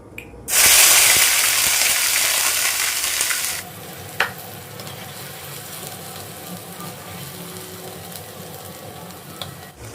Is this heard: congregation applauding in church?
no